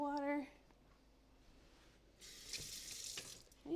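Tap water running into a sink in a kitchen where peppermint hard candy is being made, a soft splashing rush that starts midway and lasts about a second and a half, after a brief voice at the start.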